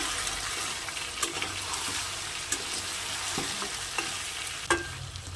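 Mutton frying in a pan over high heat with small splashes of water, a continuous soft sizzle broken by occasional scrapes and knocks of stirring, moderately quiet and close.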